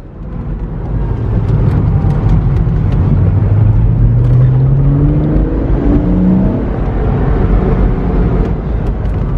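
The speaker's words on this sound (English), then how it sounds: "These later cars with four catalytic converters are so quiet though." A Porsche Boxster S engine with a quiet four-catalytic-converter exhaust revs up and settles, a steady loud low droning hum with rising and falling engine tones, heard from inside the car.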